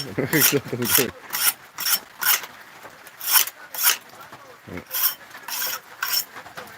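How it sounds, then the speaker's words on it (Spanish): A knife being sharpened on a powered sharpener during a traditional home pig slaughter, heard as a rapid series of loud, rasping grinding strokes in an even rhythm, close by and with no talk over it. "con eso mismo lo hemos afilado un momento"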